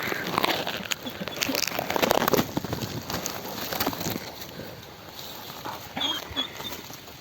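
A small white dog whimpers and gives a few short yips at close range amid rustling and handling noise in light rain, with no clear speech.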